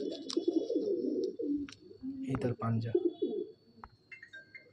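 Madrasi pigeons coo in a loft, a run of low, throaty rolling calls close by, while someone talks over and between them.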